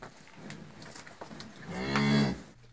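A cow moos once, a loud, drawn-out, close call rising out of quiet farmyard background, with the cow freshly calved and standing over a nursing lamb.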